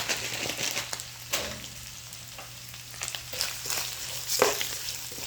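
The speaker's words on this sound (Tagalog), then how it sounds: "Unahin na natin to guys kasi para mag kulay brown siya." Chicken pieces frying in a pan to brown them, a steady close sizzle and crackle with occasional stirring scrapes, spread over several seconds with no talking.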